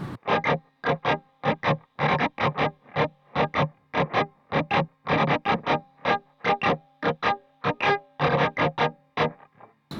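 Electric guitar playing the rhythm riff from a song, a tight pattern of short muted, distorted strums in a syncopated repeating rhythm, close and moderately loud.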